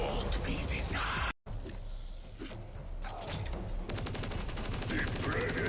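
Loud, dense gunfire bursts and rapid shots fill a Forsaken video game match, with a brief cutout before the shooting resumes and continues steadily.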